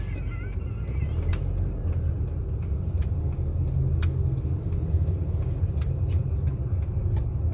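A white car speeds past at night on a street by the provincial hall in Pak Nam, Samut Prakan, its engine rumbling steadily amid continuous traffic noise with no talk.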